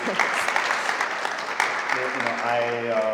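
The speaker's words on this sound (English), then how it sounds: "Give a round of applause, to Leah." Applause from a conference audience at a session on audit and data, a steady burst of clapping in a hall, with a voice starting to speak over it near the end.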